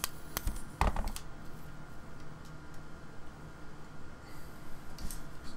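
A metal xShot 2.0 camera extender pole is pulled out, giving a quick run of sharp clicks and ratcheting snaps near the start, then a few faint ticks over a quiet background.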